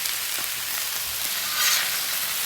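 Vegetables and chorizo sizzle steadily on a hot Blackstone griddle, a close, even hiss of frying with a slight swell partway through and no voices.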